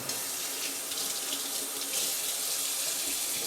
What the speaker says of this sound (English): Wash off my knife.